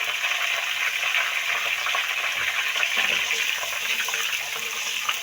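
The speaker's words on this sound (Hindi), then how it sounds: "अब हम इसमें डालेंगे इसके साथ हाफ टी स्पून ज़ीरा और इसे 1-2 सेकंड के लिए भूनेंगे।" Half a teaspoon of cumin seeds frying in hot oil in a pan, a steady, close, dense sizzle with fine crackling throughout and no talking.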